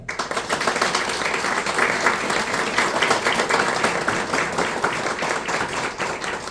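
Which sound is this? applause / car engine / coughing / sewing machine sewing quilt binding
applause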